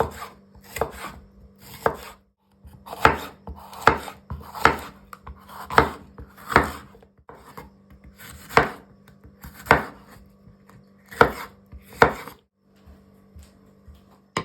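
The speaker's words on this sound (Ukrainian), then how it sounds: "Беремо перець жовтий, зелений та червоний. Нарізаємо соломкою." A knife cuts yellow, green and red bell peppers into strips on a board, about a dozen crisp chops in an uneven rhythm with short pauses between, close and clear.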